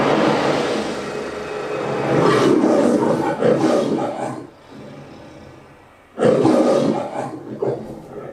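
A loud, full lion roar is played back through a Blitzwolf BW-SDB2 soundbar: a long rumbling roar with a brief dip midway, then a second powerful roar bursting in near the end.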